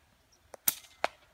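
A few sharp, short cracks ring out in quick succession against a quiet background, shots from a Rapid HM1000X air gun at long range.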